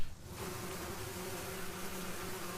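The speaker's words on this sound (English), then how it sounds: "there's some bees coming at us" Bees buzz toward the ship in the video game Sunless Skies, a steady droning hum that swells in after a brief quiet start and holds for a couple of seconds.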